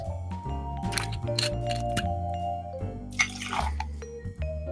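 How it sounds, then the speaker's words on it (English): Metaxa 12 stars brandy poured into a cocktail shaker filled with ice, a close liquid trickle and dripping over ice with a few light clinks and a short splashy burst, no voices. "Then add 45 milliliters, that's just shy of a double measure, of Metaxa 12 stars."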